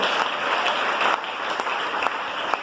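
A church congregation applauds the Lord during a sermon, dense sustained clapping filling the space loudly and evenly throughout, with a few sharper individual claps standing out.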